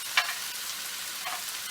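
Vegetable hakka noodles with soy sauce being stir-fried and tossed fast with two spatulas, a steady soft sizzle throughout with a brief sharp scrape near the start and another faint one later, no voices.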